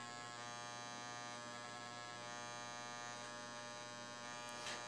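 An electric hair clipper runs steadily while cutting hair for a comb-over with a hard part, a continuous close buzzing hum that holds for several seconds with no talking.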